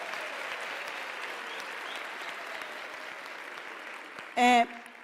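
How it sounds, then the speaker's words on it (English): Steady audience applause fills a graduation ceremony hall for graduates of the University of South Africa, a dense even wash of clapping that runs throughout, broken near the end by a short loud tonal burst like a microphone or feedback sound. "Can you please give them a round of applause?"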